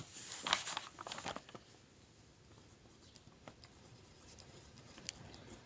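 Pen strokes on paper while figures are written down, quiet scratchy bursts in the first two seconds followed by fainter intermittent scratching against low background noise.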